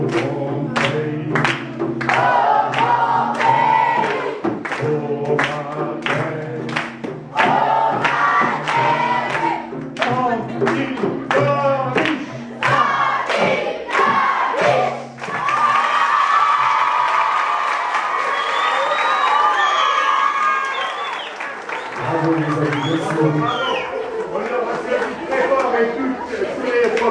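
An audience at a storytelling show in a collège in Nice claps and cheers in loud bursts, with a voice speaking over and between the applause and children's shouts mixed in.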